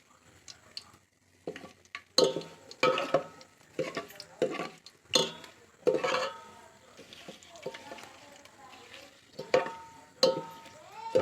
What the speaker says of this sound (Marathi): व्यवस्थित हे परतून घेत आहे आता आतमध्ये थोडासा कढीपत्ता टाकतो